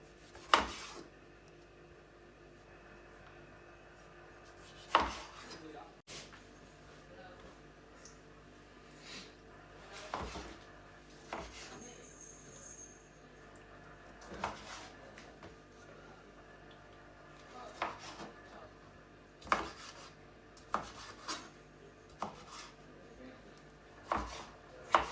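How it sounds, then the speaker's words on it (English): Knife cutting a tomato into four pieces on a board: a handful of sharp, separate chops spaced several seconds apart, close, with quiet kitchen background between strokes. "to cut the tomato, you want to cut it in 4 pieces"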